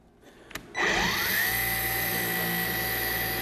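A Ryobi 18V battery-powered dual action polisher starts after a brief click and runs with a steady, loud high whine and hum, its pitch sliding down as the motor bogs under load against a hard edge.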